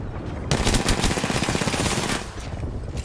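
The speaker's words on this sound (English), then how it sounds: "A couple quick bursts from the Nemesis from Kit Kat." Gunfire from a Nemesis burst rifle in the shooter game Apex Legends rings out in rapid, loud bursts of shots close together, filling nearly the whole moment with little talk.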